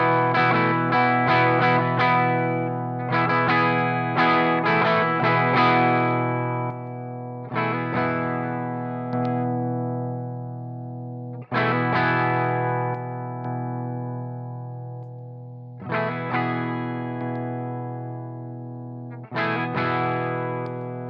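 Electric guitar played through an OKKO Holy Gritt fuzz pedal with the fuzz switch flipped up, lightly hairy and compressed: several strummed chords ring out and decay, with a quick burst of repeated strums at the start, played alone.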